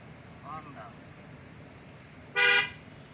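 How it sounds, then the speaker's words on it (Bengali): A private car's horn gives one short, loud honk during a driving lesson, with a brief voice heard just before. "হর্ন দাও"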